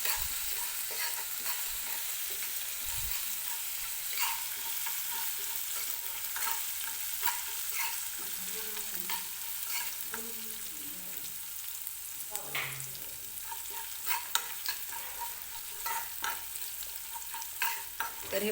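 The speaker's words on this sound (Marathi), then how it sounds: "व्यवस्थित मिरची जी आहे ती तेलामध्ये आपल्याला परतून घ्यायची आहे" Green chilies fry in hot oil in a constant hiss, with soft stirring scrapes and occasional spatters throughout, close and without voices.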